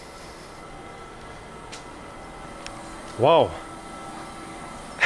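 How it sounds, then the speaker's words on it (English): A weathered old passenger train on a long Balkan route runs with a steady low rumble and a hum inside the carriage. A single loud two-tone horn blast sounds partway through, and one brief spoken exclamation comes over it. "This is my train."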